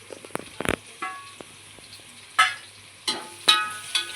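Roasted onion and garlic fry in a pan as spices go in, giving soft sizzling with a few sharp stirring scrapes and clatters spaced through the moment.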